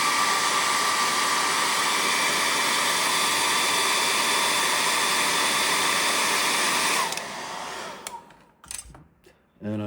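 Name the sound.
hair dryer drying paint on carved cedar waxwing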